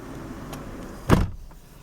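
A 2005 Kia Sorento's car door shuts with one loud, close thud over a steady low engine idle, followed by a fainter settling rattle.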